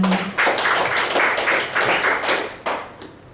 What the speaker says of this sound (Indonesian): Tepuk tangan buat Prudential teman-teman ya.